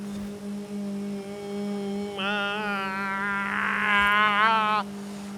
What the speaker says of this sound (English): That's the sound my engine makes.